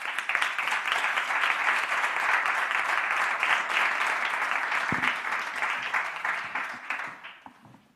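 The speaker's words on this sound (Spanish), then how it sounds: "a pedir la presencia de Cristina y de Mauro, un aplauso para ellos." Audience applause at a fashion event, a dense sustained burst of clapping from many hands that holds steady for several seconds, then thins and fades away.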